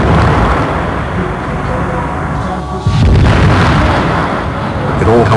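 An LPG tank explodes with a loud, sustained roaring rumble, and a sharp burst near the three-second mark leads into continued heavy, dense noise.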